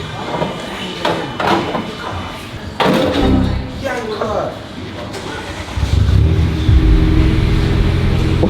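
A car engine with the exhaust back box removed starts and revs loudly with a raw, unmuffled roar, building to a heavy drone, with people talking briefly over it.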